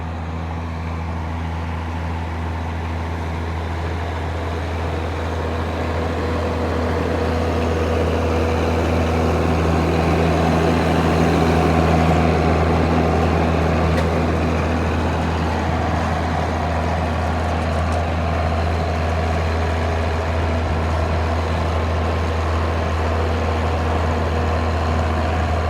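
A John Deere 4450 tractor engine drones steadily while baling hay, heard from the cab with the windows open, a loud, continuous low hum with a slight swell midway and no talk.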